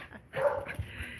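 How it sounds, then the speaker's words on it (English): A little tiny, slightly chubby dog barks once, a brief yappy bark that is fairly faint and heard alone without talk. "There's a dog walking by with those people."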